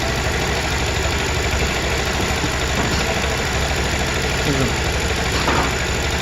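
A motorcycle or scooter engine idles steadily under repair in the evening, a loud, even mid-pitched hum with a faint knock, running alone throughout.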